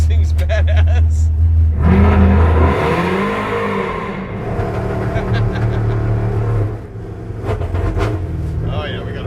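A nitrous-equipped muscle truck engine revs loud and close, rising and then sagging as it bogs at part throttle, its rumble rough and uneven, with people talking over it.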